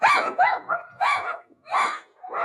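Several dogs bark in loud, close bursts, about four or five sharp volleys with yips between them and brief pauses.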